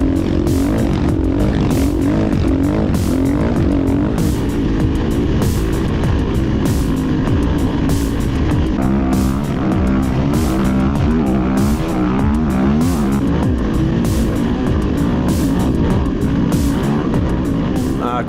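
An AJP desert racing motorcycle engine roars loud and close in a sustained, rough drone, its pitch wavering slightly as the throttle shifts, with no break throughout.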